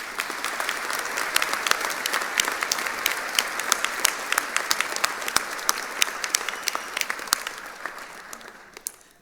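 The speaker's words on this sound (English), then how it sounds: "Let's give them a round of applause." At a college graduation ceremony, an audience claps with sharp individual claps over a dense wash, loud at first and then fading out toward the end.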